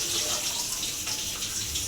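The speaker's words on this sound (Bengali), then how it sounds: "এখানে দিদি জল ভরছে" Water gushes steadily from a tap, filling a container with a continuous, loud, close hiss that stays even throughout, with faint talk in the background.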